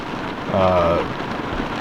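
Rain drums steadily on a truck, heard from inside the cab during a Mississippi turkey hunt in stormy weather. The patter is dense and continuous, with a brief tonal hum in the middle and no voices.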